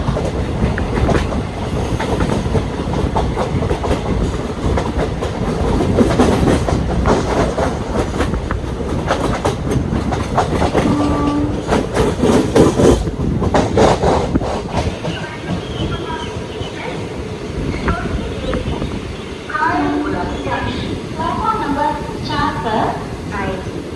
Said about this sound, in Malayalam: ചെന്നൈ ട്രിവാൻഡ്രം സൂപ്പർ ഫാസ്റ്റാണ് ഈ വരുന്നത് കേട്ടോ.